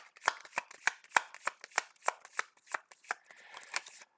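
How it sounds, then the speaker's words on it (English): A deck of playing cards is riffled and bridged in a steady rhythm of about a dozen crisp, snapping bursts, close and clear with no talking. "Let's shuffle Sam's deck and draw up and get this done with."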